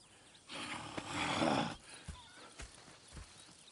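A horse in the video game Red Dead Redemption 2 whinnies loudly for about a second, followed by several soft, scattered hoof clops on the ground.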